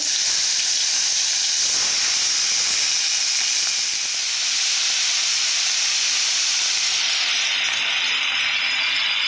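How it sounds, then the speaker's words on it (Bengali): Onion paste sizzles in hot oil for a hilsa-style fish curry, a steady loud hiss of frying that holds evenly throughout with no talking. "এরপর হালকা করে পেঁয়াজ বাটা দেব"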